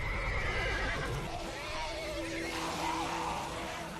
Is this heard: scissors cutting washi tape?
no